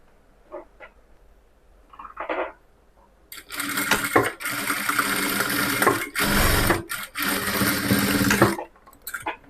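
A sewing machine stitches a straight-cut pant seam, running in several bursts of rapid mechanical whirring after a few faint handling taps, loud and close with short pauses between runs.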